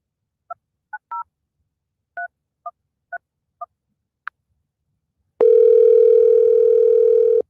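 Telephone keypad tones beep in short, separate presses with gaps between them, followed by a steady, loud dial tone that holds to the end. No voices are heard.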